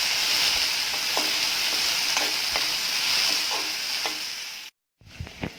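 Turmeric powder being stirred into a frying pan of sizzling oil: a steady hiss with several rhythmic spoon scrapes, close up, then a brief silence and a few more clinks.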